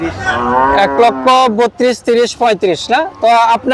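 A black cow at a busy cattle market lets out loud, close, drawn-out moos in a series of broken calls, with people talking in the background.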